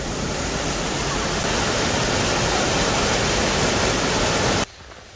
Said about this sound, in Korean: 아, 여기가 구룡폭포입니다.